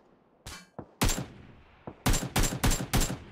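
Gunfire in the video game PUBG Lite: a few separate sharp shots, then a rapid burst of four loud, evenly spaced cracks, close and punchy with no talk.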